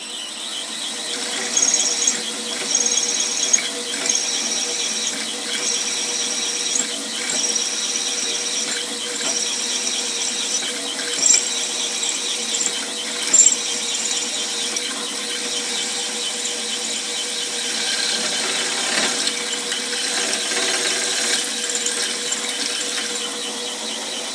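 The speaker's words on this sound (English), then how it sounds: "We're going to drill it through 17/64, and I like to go all the way through the casting." A drill grinds steadily through a metal casting with a 17/64-inch bit, a continuous shrill squeal and faint ratcheting chatter, loud and close throughout.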